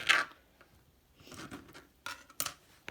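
Scissors snip a pizza topping into pieces for a bagel pizza, giving several short close crisp cuts spread unevenly through the moment, with no talking.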